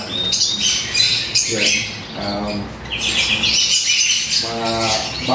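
Pigeons in a rooftop loft on a house coo and flutter in repeated bursts close by, with wingbeats and calls overlapping, and a person speaks briefly over them.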